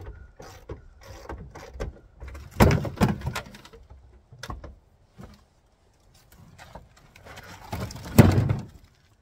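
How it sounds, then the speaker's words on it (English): Removing a heavy door from a Jeep-type vehicle: scattered metallic clunks, rattles and thumps with two sharp louder impacts, separated by quiet stretches. "And there's the second door."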